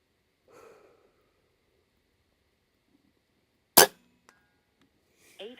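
One sharp, close crack of a Macavity MA2 .22 air rifle shot at an outdoor airgun expo stands out amid quiet, with a faint breath before it and a brief, soft metallic tick after.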